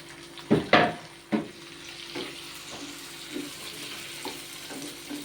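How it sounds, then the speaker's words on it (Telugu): Drumsticks fry in oil for an egg, tomato and drumstick curry, a few loud clattering knocks as pieces drop into the pan, then a soft steady sizzle with light stirring. "కొంచెం మునక్కాయలు నూనెలో ఫ్రై అయితే బాగుంటుంది"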